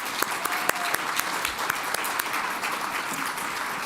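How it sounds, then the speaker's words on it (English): Audience at a soil health week event applauds the panelists, steady light clapping from a room of people, moderately distant, with a few sharper claps standing out. "Let's give a round of applause to our panelists."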